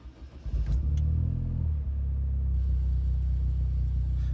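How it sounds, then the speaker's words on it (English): A Vauxhall Corsa VXR engine cranks briefly, fires with a rev, then settles into a steady, close, rumbling idle, heard alone after an O2 sensor change. "when I turn the engine on"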